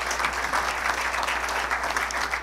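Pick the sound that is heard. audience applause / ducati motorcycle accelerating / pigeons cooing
audience applause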